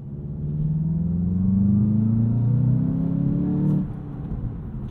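A deep, synthetic-sounding exhaust note piped through the speakers of a 2022 Volkswagen Jetta GLI climbs steadily in pitch inside the cabin, then cuts back sharply to a low idle hum.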